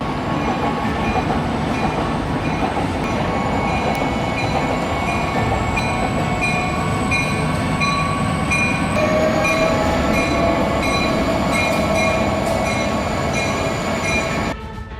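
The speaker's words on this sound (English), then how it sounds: "A train struck and destroyed the safety gate at rail crossing number 20" A train rolls steadily past a rail crossing, a loud continuous rumble of wheels and cars with high metallic ringing tones layered on top throughout, ending abruptly near the close.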